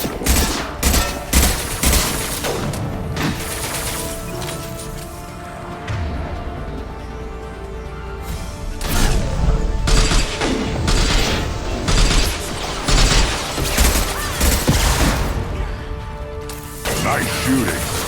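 Dense, continuous gunfire and explosive booms from a Mass Effect 2 combat sequence, loud and layered, with voices speaking over the shooting throughout.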